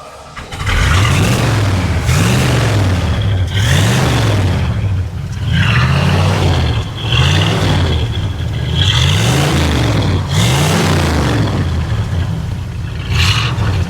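A 1980 Camaro Z28 V8 runs loud and close, revving up and down in about six repeated throttle blips with a rumbling exhaust from a rusty muffler, no talking over it.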